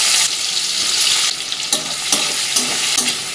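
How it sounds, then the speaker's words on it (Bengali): Chopped onion frying in oil with nigella seeds in a pan, a loud close hiss that is repeatedly broken by stirring scrapes and knocks. "পেঁয়াজটা একটু লাল লাল করে ভেজে নেব"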